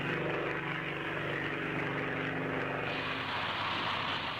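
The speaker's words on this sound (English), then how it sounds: "An economic feeder line aircraft, designed primarily for use in developing countries" A propeller feeder-line aircraft flies past at the Farnborough air show, its engine drone loud and steady and holding throughout, with no voices.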